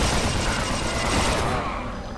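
Rapid Unreal Tournament gunfire, a dense burst of shots that fades out toward the end, with no voices.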